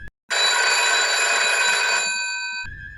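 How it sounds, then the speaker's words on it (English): Telephone ringing with a bright, sustained electronic trill lasting over two seconds, loud and close, after a short tone and a brief silence. "the phone suddenly rang"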